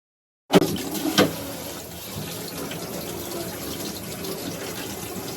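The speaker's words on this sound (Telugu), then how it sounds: "ఈ 2 అలోవెరా అనేది తెచ్చుకున్నాం కదా, దీన్ని అయితే వాష్ చేసేసుకుందాం" Tap water gushes on suddenly, splashing over two aloe vera leaves being washed under the faucet, a steady close hiss of flowing water with brief splashes early on.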